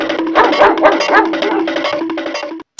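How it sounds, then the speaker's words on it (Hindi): A mad dog in an animated Chacha Chaudhary cartoon barks and yelps in a rapid string of loud, close barks for about two and a half seconds, then stops abruptly. "कुत्ता, बाप रे, पागल कुत्ता,"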